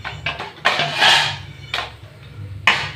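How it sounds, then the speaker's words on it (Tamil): Cooked bottle gourd and dal mashed in a pot with a wooden dal masher, heard as a few separate soft thuds and scraping bursts at an uneven pace, close and moderately loud. "அப்படியே நசுக்கிடணும், நல்லா நசுக்கி விட்டுறணும்."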